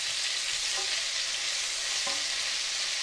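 Crispy-skin chicken pieces frying skin-side down in a hot pan give a loud, dense, continuous sizzle with a couple of faint clinks, close up and with no voices.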